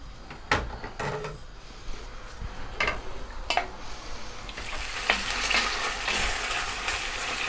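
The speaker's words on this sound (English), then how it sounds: "Medium heat into that olive oil. We're just going to kind of seal it a little bit" Pork tenderloin sears in olive oil over medium heat, a steady sizzle with a few sharp clanks and stirring knocks early on, swelling into a louder, brighter spitting hiss in the last few seconds.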